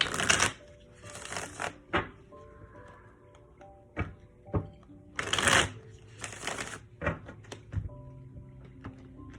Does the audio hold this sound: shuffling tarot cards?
yes